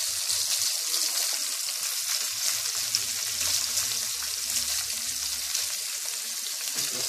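Pork chops frying in canola oil sizzle with a constant, close crackling hiss and scattered pops throughout, no talking.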